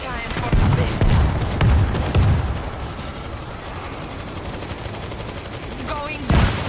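A heavy gun fires repeatedly during a zombie fight in the video game World War Z, giving loud, booming bursts in clusters early on. A lower rumble of combat follows, then a final sharp blast, with game voices briefly heard.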